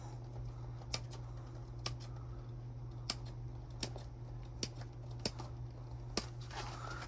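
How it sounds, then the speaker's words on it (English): Wire cutters snip wire while adding battery-operated lights to a pack, producing sharp, isolated clicks spaced roughly a second apart over a steady low hum. "I'm going to go ahead and snip this."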